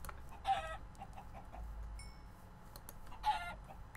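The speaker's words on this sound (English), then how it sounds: "Lots of chickens." Two short Minecraft chicken clucking bursts, about three seconds apart, stand out over a quiet background, with a brief electronic tone in between.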